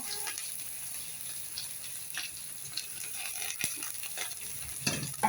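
Green chillies sautéing in a pan for veg noodles, a soft, steady sizzle with faint stirring scrapes throughout, quiet and close, without speech.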